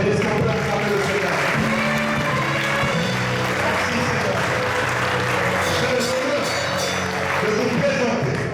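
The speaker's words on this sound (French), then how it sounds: "Est-ce qu'on peut acclamer le Seigneur?" A church congregation at an ordination service bursts into sustained applause, dense and steady clapping filling the room for the whole stretch, with voices and cheering mixed underneath.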